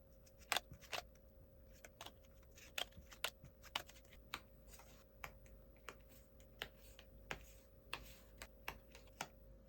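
Tarot cards being shuffled and drawn, heard as a run of sharp, dry card snaps and flicks at an uneven pace, close and fairly quiet, with no talking.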